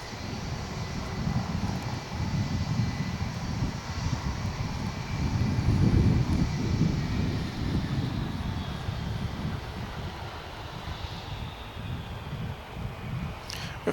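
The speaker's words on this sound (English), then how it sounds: "We have another UPS flight coming in. It's flight 775. This will be another 757." A UPS Boeing 757 at Dallas/Fort Worth Airport after dark gives a continuous broad engine roar that swells to its loudest midway and then slowly eases, heard from a distance with wind-like noise.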